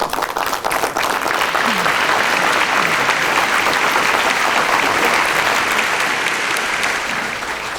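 Warm, dense applause from a large audience at a talk on radical compassion by the founder of Homeboy Industries, steady and loud throughout with a faint vocal murmur in the crowd.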